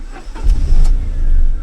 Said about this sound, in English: the engine noise that is well heard inside the cabin